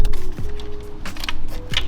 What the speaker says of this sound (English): and then we're going to disconnect the vacuum plug for the purge valve